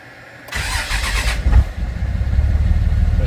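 A T600 4x4 truck engine cranks and fires via push-button start, a short burst of starter noise followed by the engine settling into a steady rumbling idle, close and alone.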